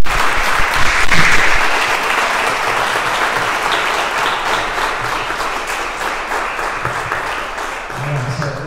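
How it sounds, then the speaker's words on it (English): Sustained audience applause fills the room as a talk about Malcolm X in Baltimore comes to a close, loud and dense at first and easing only slightly over several seconds. "Let's give Davon another round of applause."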